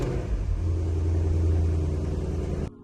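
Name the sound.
Porsche Panamera GTS V8 engine cold start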